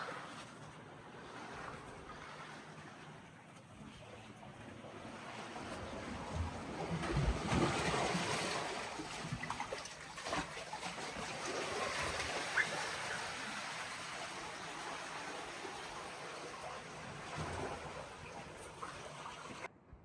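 Ocean waves wash around the end of a jetty at Wool Bay on the Yorke Peninsula, a broad, continuous surging rush with wind, swelling louder midway and easing off again, with no talk.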